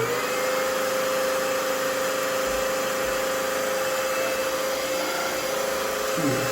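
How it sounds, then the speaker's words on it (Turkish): A Robix R8 upright wet vacuum cleaner runs continuously, cleaning crepe, tomato paste and honey stains from the floor, giving a steady loud motor whine and airy hum with no voices. "Şimdi bu Robix R8 dikey süpürgeyle ben buranın temizliğini sağlayacağım."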